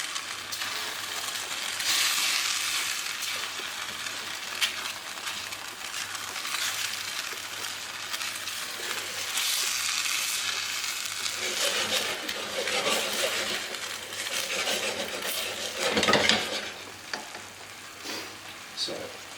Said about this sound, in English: And it will start to bubble up and make a nice sauce.